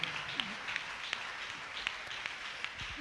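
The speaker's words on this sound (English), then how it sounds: "The way you are clapping," Faint, scattered hand claps from an audience during a sermon, sparse and uneven single claps at a distance over quiet room noise.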